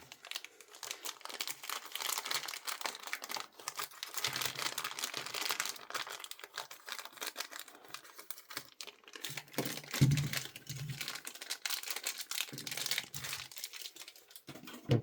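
A Takara Tomy Beyblade X UX-14 Scorpio Spear package is opened, giving close, continuous plastic crinkling and rustling with a few sharper crackles and a soft thump, with no talk.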